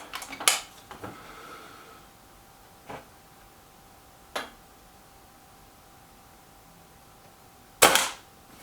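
A Kral NP-03 air rifle fired at a target card, a few sharp, close cracks spaced several seconds apart over a quiet background.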